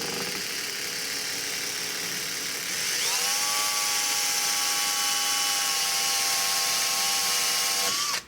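A power drill whirs steadily, boring into a wooden stock for a Spanish-made Richland Arms 20-gauge shotgun, its pitch rising as it bites in and holding a sustained whine before cutting off abruptly.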